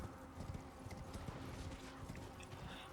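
Horse hooves clip-clop in the video game Elden Ring as a knight rides along, a steady trotting patter kept low under a busy game soundscape with no talk.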